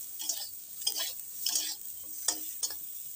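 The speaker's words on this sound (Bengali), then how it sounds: "এটাকে সুন্দর করে আমি একটু ভেজে নিচ্ছি।" Eggplant pieces seasoned with salt and turmeric fry in oil in a pan, with a steady hiss of sizzling broken by a few scraping stirs, fairly faint and without talk.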